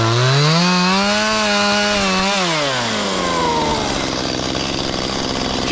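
A chainsaw runs loud and steady while cutting through a tree during land clearing. The engine pitch climbs and dips under load, then the tone shifts as the cut nears completion.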